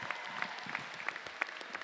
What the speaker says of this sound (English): let's get a round of applause real quick.